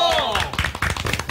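A small group at a Halloween party livestream claps briefly for a dancer, a short patter of fairly close claps with a voice trailing off at the start.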